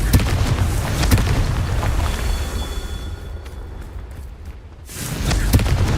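Confringo blasting spells from Hogwarts Legacy detonate in loud, heavy booms with sharp impacts, fading into a quieter rumble before another explosive burst swells back up near the end.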